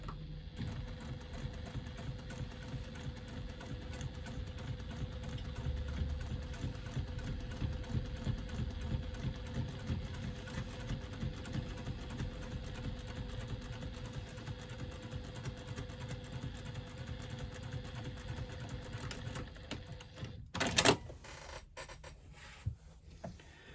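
A sewing machine top stitching a side panel of a fabric wristlet bag, a low steady mechanical whirr running continuously at low level, ending with a brief louder clunk and rattle.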